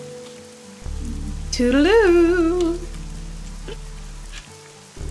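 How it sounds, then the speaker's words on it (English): Steady rain falls in the Fall of Porcupine video game, a constant wash of drops running under a short spoken line and background game music. "Hopefully the rain will stop by then."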